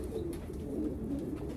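Soft low cooing from a racing pigeon hen, a brief close, gentle rolling coo that is quiet and continuous, with no talk over it.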